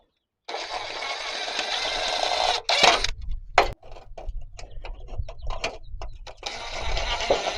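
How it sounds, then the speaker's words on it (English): Power drill boring holes through roofing into studs for a homemade rain guard: close, loud whirring runs with a short burst of rattling grinding in the middle, pauses with light knocks, then the motor resumes. "Just gonna drill some holes."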